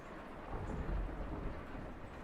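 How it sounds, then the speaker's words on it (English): Thunderstorm in the game Kentucky Route Zero: a steady low rumble of thunder rolling under a constant wash of rain, swelling slightly near the middle and holding loud throughout with no voices. "as the storm bears down upon us"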